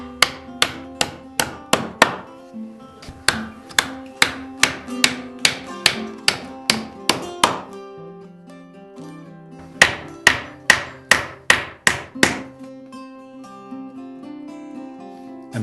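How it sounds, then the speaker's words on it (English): Nails hammered into untreated pallet wood for a chicken feeder trough: steady runs of sharp, ringing hammer taps in quick bursts, with short pauses between groups of blows, close and clear with no talking. "So now I can turn it over, ready for nailing."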